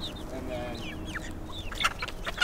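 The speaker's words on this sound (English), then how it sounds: "So, these are our chickens, our ducks." Chickens cluck and chirp close by on a farm with ducks nearby, a busy scatter of short calls over low background noise, with a few sharper squawks near the end.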